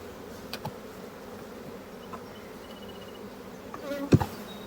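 Honey bees in a beekeeping yard buzz steadily nearby in a low, continuous hum, with a brief louder bump near the end.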